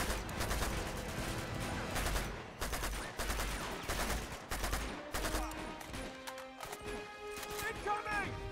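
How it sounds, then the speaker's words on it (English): Automatic weapon fire in the video game Uncharted 2, with dense, loud bursts of shots and explosive impacts layered over game music and effects, while a voice talks throughout. "Fine, I'll use automatic weapons."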